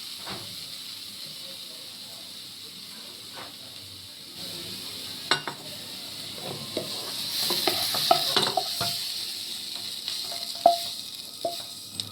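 Food frying in a pan: a soft, continuous sizzle and hiss that grows louder partway through, broken by scattered spatters, stirring scrapes and light utensil knocks against the pan.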